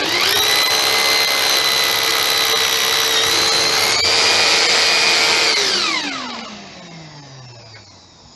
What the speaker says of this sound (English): I've got my drill plugged into my vacuum. So when I start my drill, that will work.